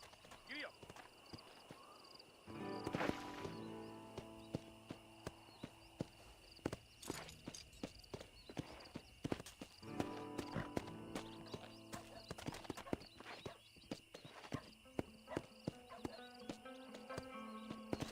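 A horse in the Red Dead Redemption video game clops along in a steady, repeated hoofbeat rhythm, with an occasional whinny and a rider's voice over game ambience.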